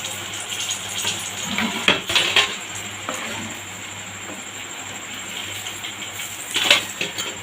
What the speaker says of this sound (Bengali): বাকিগুলো ভেজে নিচ্ছি